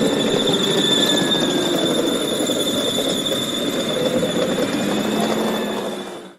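A rugged autonomous mobile robot moves with a continuous high-pitched mechanical squeal and whine over a rumbling drive noise, steady and fairly loud before fading out at the end.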